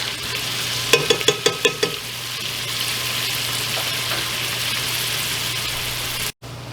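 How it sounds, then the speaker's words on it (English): Garlic and onions sauté in a pan on high heat: six quick metallic taps in a row, then a continuous, fairly loud frying sizzle that cuts out for an instant near the end. "the garlic and the onions will burn, and the pan is kind of high at the moment"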